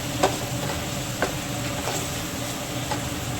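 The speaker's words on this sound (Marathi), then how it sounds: "थोडं नरम होईपर्यंत याला असं परतून घ्यायचं" Pumpkin bhaji with spices and chana dal is stirred in a pan, giving a continuous soft sizzle with a few light scraping taps of the spoon, close and steady throughout.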